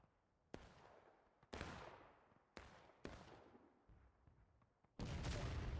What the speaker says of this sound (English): Nice cannon shot right off the rip.